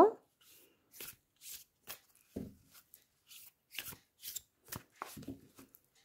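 Cards are shuffled for a tarot-style card reading in a series of crisp, riffling bursts, about a dozen quick rustles in an irregular rhythm, close and fairly quiet against a silent background.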